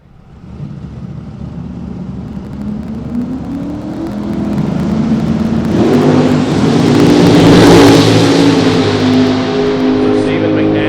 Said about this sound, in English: Great side-by-side drag race.